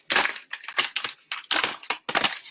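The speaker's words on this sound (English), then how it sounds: "I just used a glass bowl, and I'm going to put my nettle in" Dried nettle leaves tipped into a glass bowl, a series of dry crunchy rustling bursts at close range, about six scoops in quick irregular succession with short pauses between.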